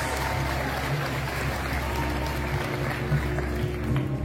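A school audience at an inclusive high school in Jakarta claps together, a loud, dense, steady wash of applause with a low rumble underneath and no speech.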